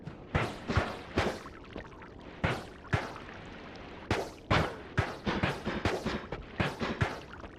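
Gunfire in a video game aimed at a creature, a series of sharp, fairly loud shots in irregular bursts, some quick doubles and triples, over a steady low background hum.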